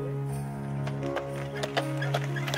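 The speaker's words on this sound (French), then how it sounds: "C'est au pas du cheval percheron que nous gagnons à présent la tourbière des Froux" A Percheron draft horse walks along a path, its hooves clopping in a slow, light rhythm beneath a steady, sustained tonal background, with no talking.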